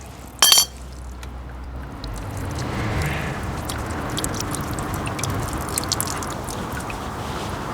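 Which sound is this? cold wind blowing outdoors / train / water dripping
water dripping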